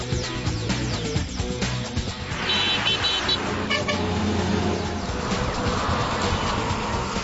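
Indian national highway traffic near Udaipur gives a continuous rumble of passing vehicles, with several car horns honking over it, fairly close and loud.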